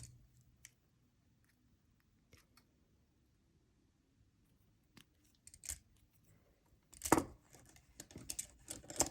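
Wire snipped with cutters while making a wire-wrapped beaded pendant, mostly quiet handling and small clicks, then a sharp snip and rustling near the end, close and faint.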